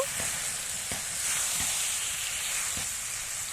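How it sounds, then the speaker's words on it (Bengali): Meat sizzles and fries steadily in a pan with spices for a chicken curry, a constant hiss with a few soft scraping stirs at regular intervals, close and alone. "এরপরে আমি এখানে দিয়ে দেবো মাংস মাংসগুলোকে মশলার সঙ্গে মাখিয়ে নেব"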